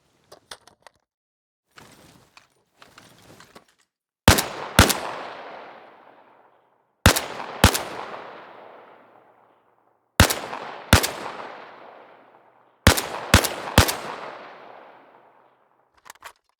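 Weapon fire in the RHS: Reforging video game: a few faint clicks, then four loud bursts of two or three sharp shots each, every burst trailing into a long echoing decay.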